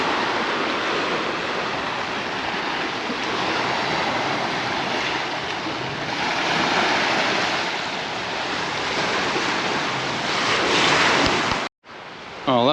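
Waves break and wash steadily onto a beach at San Agustin, Mallorca, a loud continuous surf roar that runs without pause before cutting off abruptly near the end.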